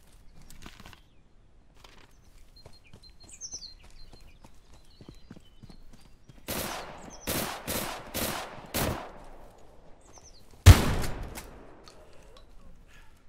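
A Scorpion gun fires in the Deadside video game: a quick string of sharp shots partway through, then a single louder close report, with quiet faint ticks before.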